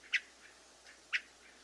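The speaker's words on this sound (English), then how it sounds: "That little chirk" A hermit thrush gives two short, sharp chirk calls about a second apart, fairly close and otherwise quiet, with fainter call notes between.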